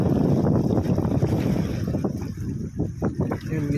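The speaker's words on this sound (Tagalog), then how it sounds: "Sarap ng hangin." Breezy wind at a beach resort in Lanao del Norte, loud rumbling gusts buffeting the microphone, with scattered voices and footsteps-like knocks in the background.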